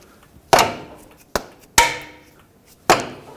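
Hammer strikes a pry bar to seat a CV axle on a 2009-2015 Toyota Prius, four sharp, loud metallic whacks spaced irregularly, each ringing briefly before fading.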